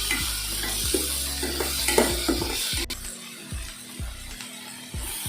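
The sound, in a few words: onions sauteing in a pan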